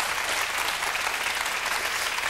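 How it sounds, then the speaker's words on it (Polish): Dense, continuous applause from a game show studio audience fills the whole stretch at an even, loud level, with many hands clapping together and no pauses. "wygrywam. Brawa."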